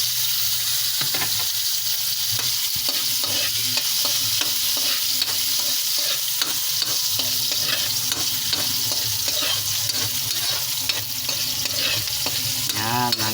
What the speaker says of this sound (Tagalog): painit ng mantika at magisa na tayo ng ating panggisa, bawang sibuyas at luya